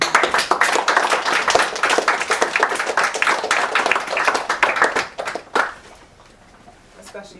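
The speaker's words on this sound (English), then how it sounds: "I think we owe you a real round of applause for that." An audience claps for participants after a moot court session, dense sustained clapping that tapers off around the five-second mark and then gives way to quieter room sound.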